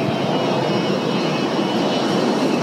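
A passenger airplane's engines roar steadily during takeoff, a loud, continuous broadband rush heard from inside the cabin with no talk.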